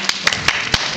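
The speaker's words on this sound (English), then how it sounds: "¿Quieren aplaudirles," A few sharp, separate claps ring out at a Mexican comics convention, about five distinct hits in a second, close and fairly loud with no talk over them.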